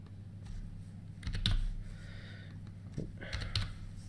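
Computer keyboard typing during a tabletop X-Wing game match, a few scattered close key clicks and taps in two short bursts over a quiet room background.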